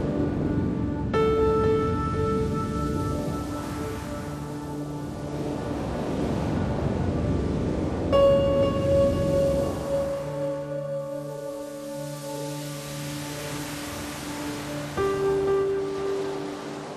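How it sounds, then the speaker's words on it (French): Ocean waves at Lacanau roll and crash onto the beach, a broad surging wash that swells and recedes, heard alongside sustained tonal music layered over the surf. "au moment où il y a le choc de la vague, là on se rend compte de la force de l'océan"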